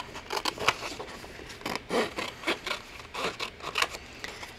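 Scissors cutting decorative printed paper for a handmade art doll, a series of close, crisp snipping and rustling strokes in an irregular rhythm with no talk.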